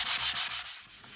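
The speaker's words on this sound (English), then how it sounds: "So real light sanding is all I'm doing here." Light sanding: quick, even back-and-forth rasping strokes, close and steady, with no voices.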